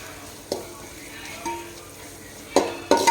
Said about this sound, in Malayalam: ഇനി ഇത് വഴറ്റിയിട്ടാവുന്നത് വരെ ഒന്ന് ഇളക്കി കൊടുക്കണം.